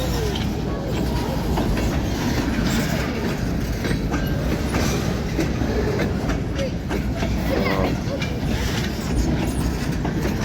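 A Union Pacific freight train rolls past at a steady, loud level for the whole stretch, wheels clattering over the rails in a continuous broadband rumble, with faint voices now and then underneath.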